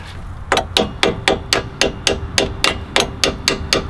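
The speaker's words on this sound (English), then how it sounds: "you either want to get a hammer, or I've got a big screwdriver handy, so just give it a few love taps and get those two" A hammer taps out the bolts of a BC Racing coilover on a Mitsubishi EVO 5, about a dozen sharp metallic strikes at an even, brisk rhythm, close and loud.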